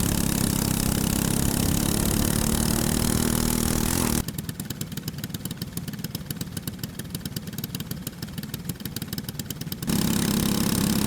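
Senior medium karts at a racetrack rolling off for a heat race, a loud steady engine drone that suddenly shifts into a rougher, rattling buzz for several seconds before returning to the smoother roar.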